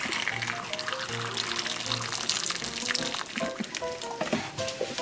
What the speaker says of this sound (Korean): 찬물로 한 번을 헹굴 하신 다음에 찬물은 버리세요